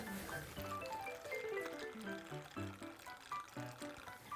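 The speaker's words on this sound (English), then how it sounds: "Followed by 2 ounces of bourbon." About 2 ounces of bourbon are poured into a bowl of homemade eggnog, making a soft, close liquid pour with glugging tones that shift in pitch for a few seconds.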